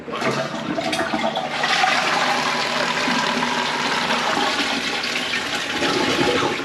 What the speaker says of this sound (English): let's give it a flush and make sure everything's okay